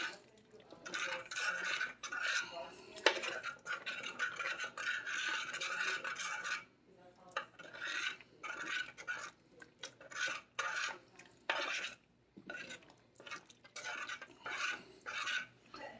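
A spoon scrapes and clinks around a pot of creamy Reuben soup as cornstarch is stirred in to thicken it, quiet repeated strokes with brief pauses, close and without talk.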